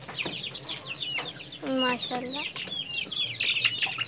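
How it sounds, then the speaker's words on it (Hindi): A Surti rooster clucks at a poultry sale, with repeated close, loud clucks and calls among other chicken sounds, and someone speaks briefly. "देखो ये वाला सुरती मुर्गा है"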